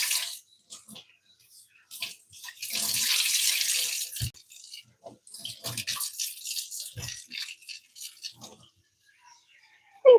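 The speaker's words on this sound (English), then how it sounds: "let me just wash my hands and start a new coffee" Tap water runs in bursts at a sink while hands are washed, a steady hiss for a couple of seconds then broken splashes, close and moderately quiet with no talking.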